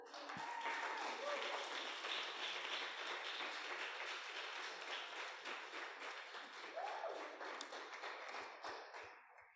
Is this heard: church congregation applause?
yes